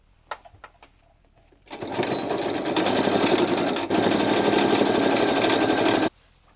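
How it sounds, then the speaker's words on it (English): A sewing machine runs steadily for about four seconds, stitching pockets onto a pants leg within the seam allowance, after a few light handling clicks; the motor buzz is close and loud with a brief hitch midway. "I'm gonna sew my pockets onto the pants leg within my seam allowance"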